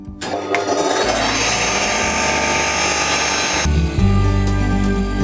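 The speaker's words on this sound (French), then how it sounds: "Lancement de la lame." A workshop saw blade spins up for cutting tenons while building a workshop cabinet, a loud steady motor whine that swells and holds, then shifts to a heavier tone partway through, with no talking.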